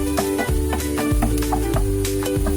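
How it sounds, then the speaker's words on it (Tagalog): Garlic sautés in a hot pan with a soft sizzle, while a spoon scrapes and stirs in a quick, uneven rhythm close by. "Mga 30 seconds din ulit pag-igisa."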